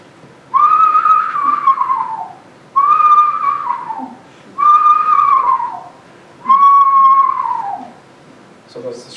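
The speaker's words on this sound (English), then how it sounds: "So that's the screech owl like this." Screech owl whinny calls, four descending, wavering whinnies spaced about two seconds apart, loud and clear with short quiet gaps between them and no talking.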